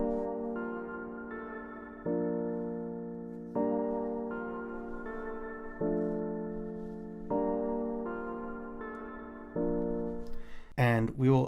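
A chord sequence played on a Synthstrom Deluge steps through sustained, warm synth chords with fading swells every couple of seconds, sounding alone until a brief noisy burst at the end.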